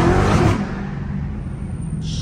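Dodge Hellcat pulling hard in first gear, a loud, close engine roar that starts strong and settles into a sustained lower drone over a couple of seconds.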